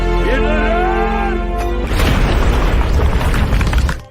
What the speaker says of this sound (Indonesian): menarik pin granat yang ia pegang dan meledak bersama dengan beberapa teroris